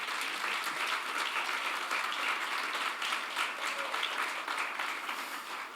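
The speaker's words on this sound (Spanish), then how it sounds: "den un aplauso al Señor" A church congregation claps together in dense, sustained applause that fills the room from start to finish.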